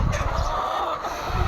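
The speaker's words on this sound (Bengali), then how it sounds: "মুরগিগুলি ডাকাডাকি করতেছে।" Laying hens on a poultry farm cluck in a steady, dense chorus, a continuous murmur of many birds calling close by with no other sound standing out.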